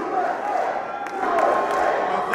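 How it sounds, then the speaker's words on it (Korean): A crowd at the CPAC political conference applauds and cheers as former President Trump takes the stage, a dense wash of clapping and shouting that swells slightly toward the end. "청중들의 열렬한 박수와 환호 속에 무대에 오른 트럼프 전 대통령."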